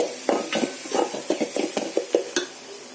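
Spoon stirring spices into a sizzling egg curry masala in a pan, about a dozen distinct scraping strokes in a steady rhythm over a gentle fry, close by with no talking.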